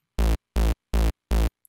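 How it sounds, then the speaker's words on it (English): A Serum synthesizer bass from a UK hardcore preset plays four short, identical buzzy notes in an even rhythm, bright and harmonically rich, loud and isolated with silence between hits. "We have a Serum bass that sounds like this."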